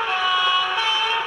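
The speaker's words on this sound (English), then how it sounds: "F13 is an air horn signal combination" A Hornby Class 31 model diesel locomotive's sound unit plays an air horn signal combination: a brief, steady, loud blast of layered horn tones lasting about a second, with nothing else around it.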